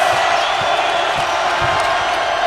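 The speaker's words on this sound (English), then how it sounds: "Now the Tigers crowd comes alive." A big LSU Tigers home basketball crowd in an arena roars loudly and continuously, with a dense cheering wash and faint ball bounces underneath.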